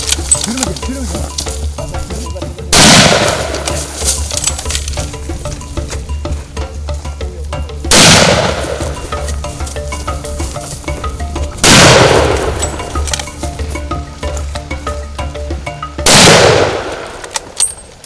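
Rifle shots fired at Cape buffalo on an African hunt ring out as four loud, sharp blasts spaced several seconds apart, each with a lingering rumbling tail over steady outdoor background noise.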